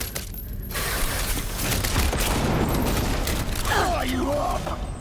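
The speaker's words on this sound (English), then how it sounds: "No, I'm going to shoot!" Sustained rapid automatic gunfire in Cyberpunk 2077, a dense crackling burst running nearly the whole stretch, loud and close, with a brief voice-like sweep near the end.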